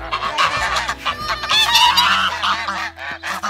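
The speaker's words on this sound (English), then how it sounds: "going to feed our geese some food, if you can hear me" Several geese honk loudly and repeatedly close by at feeding time on a homestead, their calls overlapping in a noisy chorus.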